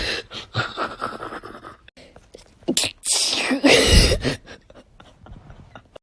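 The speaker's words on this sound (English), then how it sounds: "I am going to attempt to, how do you call this, sneeze with my eyes open" One person sneezes loudly and close, a sharp explosive burst with breathy inhalations and sniffs around it, attempted with eyes held open.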